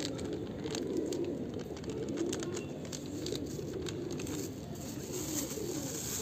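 Pigeons cooing softly and continuously over a steady background hum, with low repeated coos and a few faint higher bird calls, no talking.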